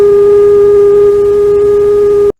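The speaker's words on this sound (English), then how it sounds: "while the camera's moving in closer, you're hearing high-pitched sounds like this" A loud, piercing steady sine tone from the 1967 film Wavelength, holding one pitch over faint background noise before cutting off abruptly.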